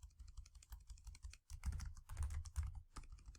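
Rapid typing on a computer keyboard while editing a Google Doc, a dense run of close clicks and clacks that grows busier and louder after a short pause midway.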